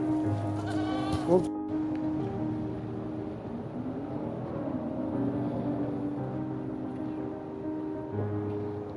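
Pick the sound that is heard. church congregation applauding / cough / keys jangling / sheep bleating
sheep bleating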